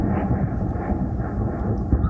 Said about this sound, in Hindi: लगातार ये धमाकों की आवाज़ है